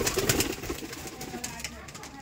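Pigeons cooing nearby as they are fed wheat, soft low coos mixed with light pecking and rustling, with a person talking over them.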